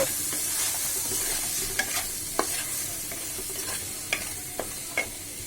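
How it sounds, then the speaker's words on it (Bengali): Prawns frying in a pan with turmeric and salt, a steady low sizzle with a few sharp clicks and scrapes of stirring scattered throughout. "এবার কিছুক্ষণ আমি চিংড়ি মাছকে একটু ভাজি করে নিব"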